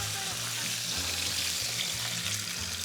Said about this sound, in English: Sear that on up.